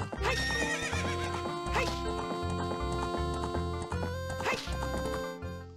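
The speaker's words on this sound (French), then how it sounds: "Ça veut dire que j'ai mon premier cheval." A horse whinnies loudly twice amid steady clip-clopping hooves and layered game music in Zelda: Ocarina of Time, the neighs rising in shrill bursts.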